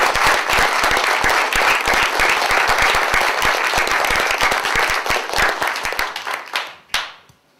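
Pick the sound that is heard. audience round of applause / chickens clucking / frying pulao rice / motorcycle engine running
audience round of applause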